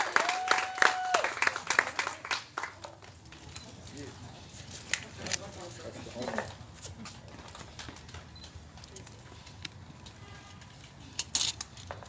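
Audience applause for a teacher, Miss Bianchi, at an outdoor community gathering: a burst of clapping at the start that fades into scattered claps and crowd noise, with people talking and a final short swell of claps.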